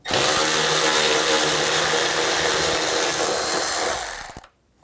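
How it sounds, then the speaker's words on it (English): Loud continuous whir of a power tool driving an 8mm socket to remove a screw from a 2011-2019 Ford Explorer coolant reservoir, steady for about four seconds, then stopping abruptly into quiet. "Now we're going to take this screw off right here"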